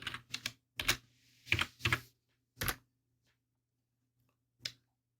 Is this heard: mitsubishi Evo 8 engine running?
no